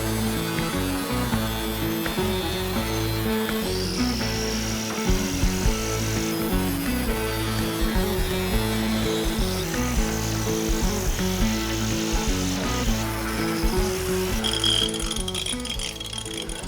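A power saw cutting out wood while a carport is converted into a screened-in porch, a steady loud whine that runs without a break and shifts slightly in pitch, with no talking.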